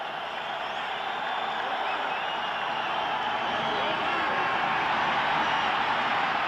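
Broad, steady roar of a stadium crowd at a 1991 Washington Redskins at Chicago Bears football game, swelling slightly louder toward the end.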